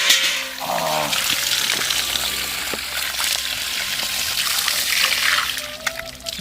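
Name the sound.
running water flowing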